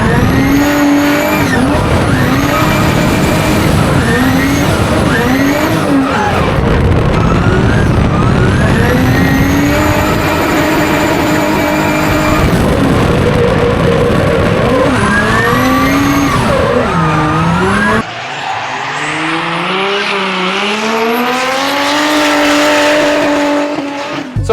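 A race car makes a fast practice lap on a New Zealand track. The engine screams loud and close throughout, climbing and falling in pitch through repeated gear changes, then drops to a lower, rougher roar near the end.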